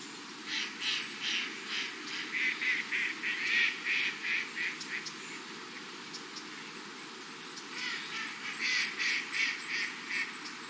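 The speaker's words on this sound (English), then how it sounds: "The Mandarin Duck, nature's living artwork." A Mandarin duck calls on the water with a series of short rhythmic quacking notes in two bursts, moderately close over a soft background hiss.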